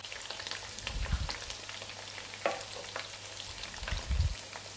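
Chicken 65 deep fries in oil over a medium flame, with a steady crackling sizzle broken by a few soft, low thumps as the pieces are turned, close by and with no talking.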